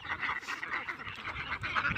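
Farm-raised ducks kept for sale quack in a fairly close, busy chorus of nasal calls that repeat throughout without a break.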